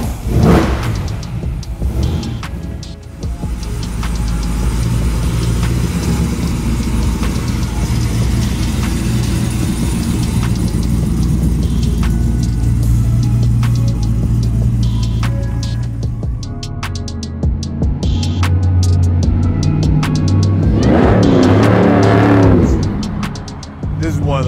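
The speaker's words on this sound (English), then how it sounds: "I hope the mics are picking up just the subtle whine from the supercharger" A supercharged LSX-powered 1956 Pontiac Star Chief pulls away and cruises, its engine rumbling with a thin supercharger whine riding on top, rising and falling with revs while people talk inside the car.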